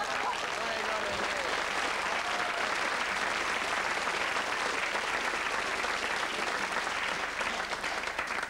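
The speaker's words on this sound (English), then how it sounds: "Give yourselves a big round of applause." A theatre audience applauds on request, a dense, steady wash of clapping that holds for the whole stretch, with some voices mixed in.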